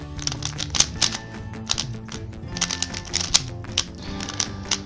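Rapid plastic clicking from a Rubik's cube being turned, a dense run of crisp snaps with brief pauses, close and fairly quiet over a low background hum, no voices.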